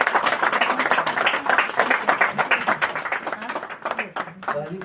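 Clapping from an audience greeting MP Gunjan Saxena at a textile knowledge-sharing event in Shimla, dense and steady for several seconds, then thinning out near the end as a voice starts.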